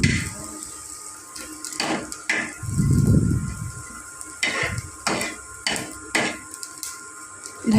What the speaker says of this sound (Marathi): धने फूल भाजत आहे